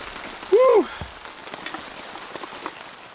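Rain patters steadily on a tent pitched on a mountain in a storm, a soft, even hiss of drops throughout, with a brief whistled or vocal tone near the start.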